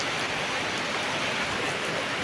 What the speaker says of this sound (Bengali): তো এই দেখো কিরকম জোরে বৃষ্টি এসেছে।